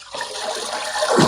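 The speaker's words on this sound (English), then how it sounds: "any water that comes out while I'm pulling it out" Water gushes and splashes out of a Fluval FX6 canister filter as it is pulled from an aquarium cabinet, a steady close pouring rush that grows louder at the end.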